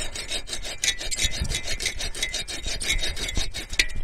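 A hand saw cuts back and forth through a big tree branch while it is trimmed for a bushcraft shelter, a steady rasping rhythm of strokes, close and fairly loud with no talk.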